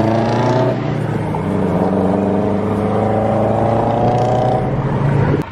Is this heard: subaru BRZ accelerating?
yes